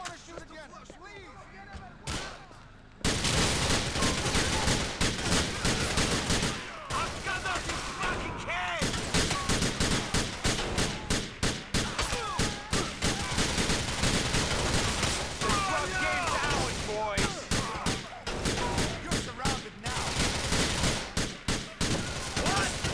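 Gunfire from a shootout in Grand Theft Auto IV, a dense run of loud shots and bursts firing almost without pause after a short quieter opening, close and harsh, with voices shouting through it.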